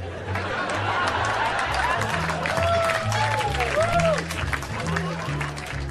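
A comedy show audience breaks into laughter and scattered clapping, a dense crowd roar with chatter throughout and a few higher, whooping voices rising above it.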